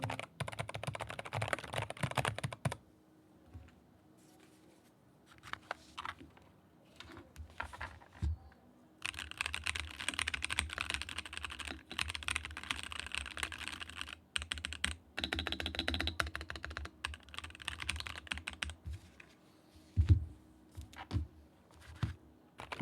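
Clattering typing on a keyboard, close up, in bursts separated by short quiet pauses, each keystroke distinct and plasticky.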